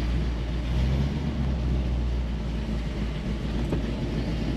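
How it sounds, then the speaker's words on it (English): Heater fan in a 1967 Ford Mustang blowing steadily, a broad, even rushing hum that holds at a constant level throughout, with no talking. "Oh, the heat's blowing. It's working."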